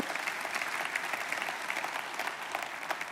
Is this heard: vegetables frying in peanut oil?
no